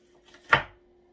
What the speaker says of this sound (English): Chopping, really, believe it or not, is one of my favorite things to do.